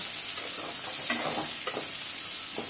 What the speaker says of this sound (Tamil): போட்டுட்டு நல்லா இது மாதிரி வதக்கி விட்டுக்கோங்க